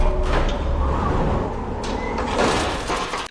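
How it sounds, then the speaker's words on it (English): A heavy door in a horror movie slides and rumbles as if pushed by the wind, a loud, drawn-out grinding scrape with a deep low rumble that swells toward the end. "Seems like kind of a heavy door to be moved by the wind."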